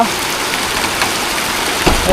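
Rain falls on a rooftop garden where drums collect water, a loud, close, steady patter and hiss of drops across the whole stretch with a brief louder splash near the end.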